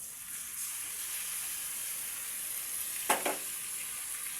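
Marinated lote fish sizzling in hot oil in a pan, a steady bright frying hiss with a short clatter of handling near the end.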